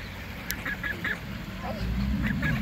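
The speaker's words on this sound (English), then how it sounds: "taking pictures of the geese." Hungry geese honking close by, a scatter of short nasal calls spread across the clip over a low outdoor rumble.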